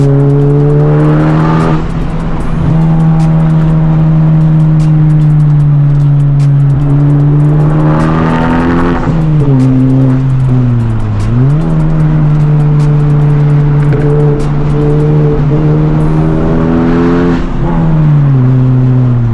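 Lamborghini on a canyon road, its engine roaring loud and close as it accelerates through the gears, pitch climbing and dropping with each shift and lift over a sustained minute-long-style run of revving.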